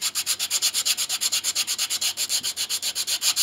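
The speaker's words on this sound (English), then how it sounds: "Wouldn't hurt to rough it up a little more. Make sure. A little rough sandpaper." Rough sandpaper scrubbed back and forth on a wooden part of an 1867 Chickering piano during restoration, a fast even rhythm of about eight strokes per second, close and alone.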